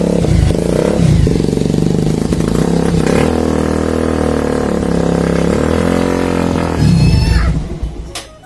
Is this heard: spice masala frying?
no